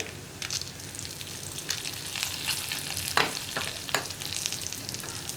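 Urad dal and dried red chillies sizzle steadily in hot oil in a pan, a continuous crackling fry with occasional sharper pops and stirring scrapes, close and alone without any talk.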